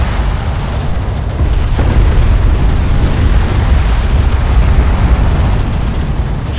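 A strike craft explodes in the Homeworld: Deserts of Kharak video game, a loud, sustained low rumbling boom that stays dense and heavy throughout, with no voices.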